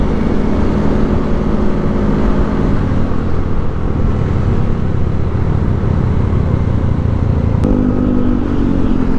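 Continuous loud automatic scooter engine drone at full power, steady and close, with wind-like rumble and no pauses.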